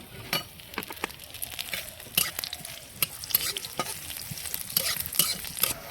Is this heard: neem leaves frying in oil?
yes